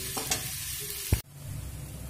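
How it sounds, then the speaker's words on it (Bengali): A spoon stirs a spiced masala mix through cabbage in a frying pan for a vegetarian cabbage ghonto, giving a few scraping strokes over a steady low sizzle, with one sharp knock just before the sizzle drops and continues more quietly. "দেখুন 2 মিনিট মতো মশলাটা মিশিয়ে নেব"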